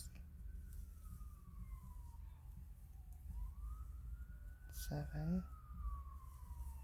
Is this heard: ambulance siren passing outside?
yes